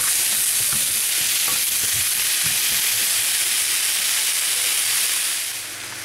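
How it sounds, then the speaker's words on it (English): Mushrooms frying in butter in a pan give a steady, loud, dense sizzle while a few scattered utensil scrapes mark stirring, with no voice throughout. "And I'm going to give that a quick stir to make sure that it's covered with the butter."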